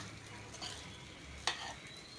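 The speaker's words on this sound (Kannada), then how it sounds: "ಚೆನ್ನಾಗಿ ಒಂದು ಮಿಕ್ಸ್ ಮಾಡ್ಕೋಬೇಕು" Carrot rice with salt being mixed in a pan makes faint, soft stirring and scraping, with one sharper spoon scrape midway, quiet and alone.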